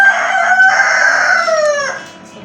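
A cockerel crows loud and close at a busy meat market in Odisha, giving one long rising and falling call that tapers off at the end.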